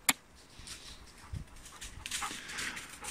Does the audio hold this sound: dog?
yes